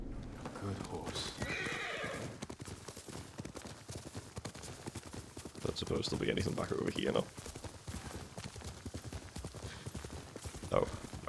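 The horse Sora in Ghost of Tsushima neighs and whinnies over steady clip-clopping hooves, with a voice talking in between and a brief burst of distant gunfire-like noise.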